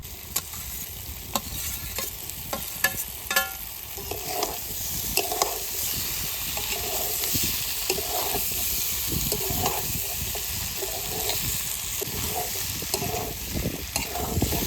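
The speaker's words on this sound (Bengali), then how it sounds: "এঁচড় আর আলু একটু মশলার সময় ভেজে নিয়েছি" Jackfruit and potato pieces frying with spices in a pan for a jackfruit-prawn curry, a hissing sizzle broken by repeated spatula strokes and scrapes, close and steady for the whole stretch.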